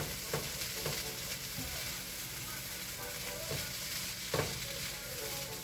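Zucchini and peppers sizzle in a pan for fried rice, a steady close frying hiss broken by a few scraping stirs.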